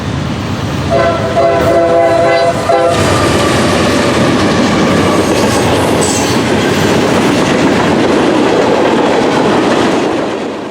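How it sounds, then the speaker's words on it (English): A loud freight train rumbles past close by in Berea, a horn blaring briefly at the start, then a continuous roar of wheels and rattling cars. "That's another train?"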